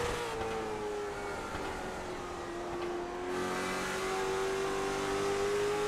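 A late model stock car engine revving at New Smyrna Speedway, heard onboard as a steady, loud, high-pitched drone that sags slightly in pitch and then climbs back under the throttle, with no talking.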